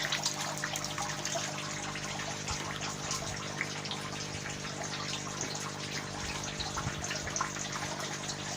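Water trickles and splashes steadily from pump tubing into a plastic drum tower garden over a low background hum, continuous and fairly faint, with no voices.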